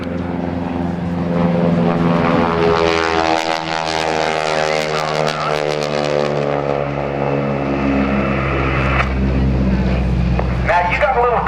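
A propeller aircraft dives at the 2009 NAS Oceana airshow, its engine drone rising in pitch and loudness throughout with a steady low rumble, a continuous close roar with no speech over it.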